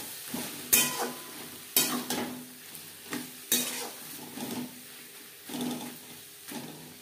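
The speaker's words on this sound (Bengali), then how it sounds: "5 মিনিট মশলা কষিয়ে নেওয়ার পর দিয়ে দেব চিকেন।" Chicken being fried with spices in a pan over high to medium flame, a quiet sizzle broken by a few sharp stirring scrapes and clinks at irregular intervals, with no talking.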